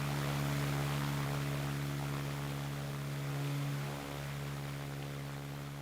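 A Spitfire fighter in the flight game Ground of Aces drones past with a steady, even propeller engine hum that eases off slightly toward the end.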